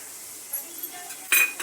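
Cashew curry masala with Kashmiri chili powder, garam masala and coriander powder stirred in a pan, soft scraping followed by a brighter metallic clink of a spoon against the pan.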